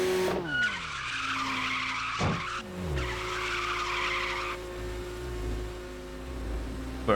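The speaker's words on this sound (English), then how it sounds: "That's a nice drift." Tires squeal long and loud as a car drifts in the Tokyo Xtreme Racer 2025 racing game, with engine tones rising and falling and repeated screeching skids over steady road noise.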